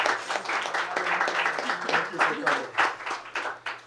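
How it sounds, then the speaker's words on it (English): Audience applause for a university panel on racial justice and reparations, steady dense clapping from a moderate-sized crowd filling the room for about four seconds, with a low hum beneath and faint voices mixed in. "Can you join me in a round of applause for our panel?"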